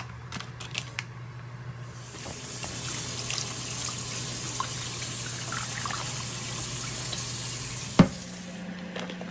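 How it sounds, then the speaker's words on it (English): Cold water runs from a tap into a container in a steady trickling stream for several seconds, with a few faint knocks before it starts and a sharp clunk near the end. "I'm going to fill up some cold water into this thing"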